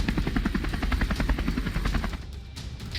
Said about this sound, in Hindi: पंजशीर घाटी के ऊपर हेलीकॉप्टर उड़ते देखे जा सकते हैं